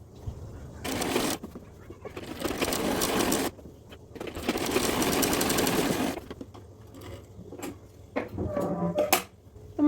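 A sewing machine stitches gathered pleats onto a salwar waistband in steady bursts that start and stop, running loud and close with a low motor whir, separated by short quiet pauses.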